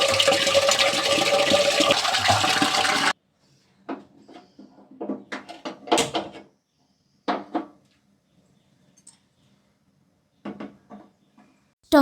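Tap water gushes into a vessel for about three seconds, meant for heating a child's bath water on a stove. The flow then cuts off, followed by scattered clunks and knocks as the container is handled.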